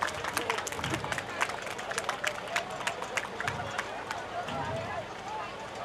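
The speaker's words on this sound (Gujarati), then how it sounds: "આપણે સૌ તાળીઓથી વધાવી લઈએ" An audience at a Shreemad Bhagavat katha gathering claps steadily in a dense, continuous patter, with a voice talking over the applause throughout.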